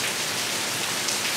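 Steady rain pours down during a storm at Disney's Boardwalk Resort, a dense, even hiss of drops on surfaces that fills the scene without pause.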